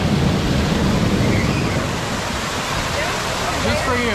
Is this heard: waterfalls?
yes